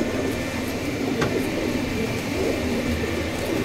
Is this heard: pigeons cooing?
yes